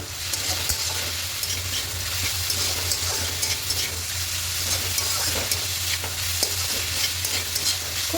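Red amaranth greens with poppy seeds and fried lentil dumplings being stirred in a frying pan, a steady sizzle with soft scraping strokes throughout, close and continuous.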